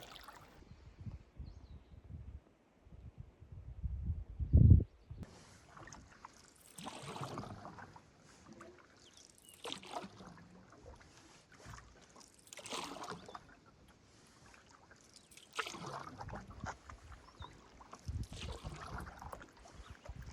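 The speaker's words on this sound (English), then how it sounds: "We still have to paddle a decent section of river before we meet our next portage." Canoe paddle strokes splash and swish through river water at an unhurried, repeating pace, close by, with wind buffeting the microphone and a louder knock near the start.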